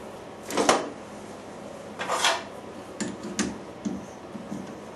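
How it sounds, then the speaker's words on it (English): Metal chuck jaws on a lathe are unscrewed, turned round and refitted, giving a few scattered clanks and scrapes of steel, spaced irregularly and fairly close, with quieter clicks toward the end. "Jaws just unscrew, turn them round, put them in the other way."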